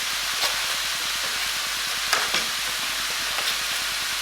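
A knob of butter sizzles in a pan with Brussels sprouts and pancetta: a steady, close frying hiss with a few faint clinks and scrapes and no talking.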